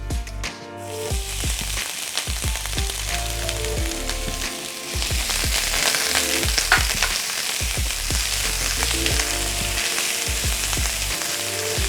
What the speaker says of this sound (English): add your onions and your garlic to the pan